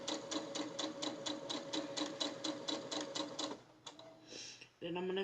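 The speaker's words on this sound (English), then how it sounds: "So I'm going to sew these down." A sewing machine stitches charm squares in a fast, regular run of needle strokes for several seconds and then stops. A voice speaks briefly at the end.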